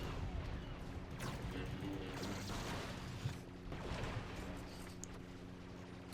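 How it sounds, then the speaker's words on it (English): AT-TE walker firing its cannons on the Ryloth battlefield in Star Wars Battlefront 2, a dense run of distant blasts and crackling shots over a constant low rumble, with a couple of sharper impacts late on. "The ATTE is also shooting."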